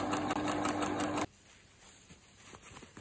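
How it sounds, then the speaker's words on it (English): A sewing machine runs fast and close for just over a second, a dense rattling stitch that cuts off abruptly, followed by quiet room tone with a few faint clicks while cloth is handled. "put it into your sewing machine, find your way around it."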